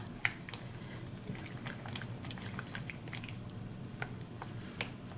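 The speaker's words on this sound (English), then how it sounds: "But I'm going to stir all this up." Shrimp and crab salad with chopped lemon zest being stirred in a bowl, giving soft, wet squishing and scraping sounds with a few light clicks of the utensil, steady and close.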